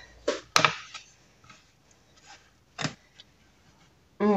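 Knife or dough cutter slicing through a ball of homemade pizza dough to halve it, giving a few short, soft cuts and taps on the work surface, close and quiet with pauses between.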